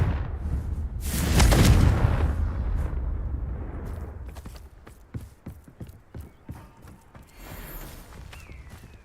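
The Confringo blasting spell in Hogwarts Legacy sets off a loud, booming explosion that swells and rumbles, then fades into scattered thuds and clip-clop footsteps.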